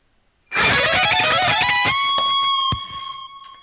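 A distorted electric guitar plays a short harmonized phrase, loud and sustained, then the notes ring out and fade.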